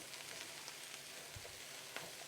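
Cabbage slaw being stirred in a hot pan with tongs, giving a steady, close sizzle and soft frying crackle with a few light scrapes, no voices.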